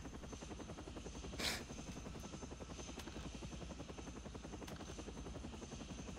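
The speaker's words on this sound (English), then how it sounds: "I think it's just the helicopter" A helicopter in the snowboarding video game Shaun White Snowboarding drones steadily with a fast, even rotor chop throughout, loud and continuous, with a brief whooshing swell near the start.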